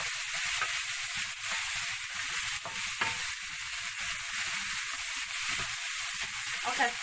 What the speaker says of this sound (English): And last, you're gonna toss in the garlic.